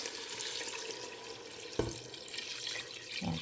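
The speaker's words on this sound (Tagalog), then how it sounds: "At lagyan po natin ng tubig mga lalabs para maluto yung bigas." Water runs into a pot of rice being cooked into a porridge, a steady splashing flow with a couple of louder sloshes and clinks near the end.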